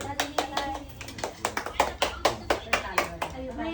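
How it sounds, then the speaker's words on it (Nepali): Hands clap in a quick, irregular rhythm at close range, a dozen or so sharp claps with voices talking over them at a family celebration. "ताली"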